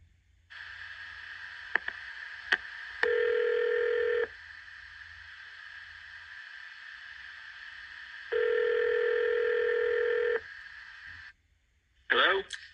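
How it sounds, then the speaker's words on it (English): A telephone number is dialed on a keypad: a steady dial tone runs throughout, interrupted by short bursts of keypad tones, with two longer tone passes and a brief electronic chirp at the end. "I'm going to dial the phone number right now."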